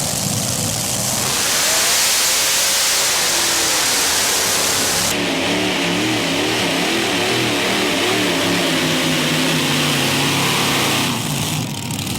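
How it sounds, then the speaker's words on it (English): Modified pulling tractor roars loud and close during a competition pull at Bowling Green, engine revving hard with rising and falling pitch, the tone abruptly changing partway through before easing near the end. "Let's see what happens as Jim Brockman takes the tractor to the starting line."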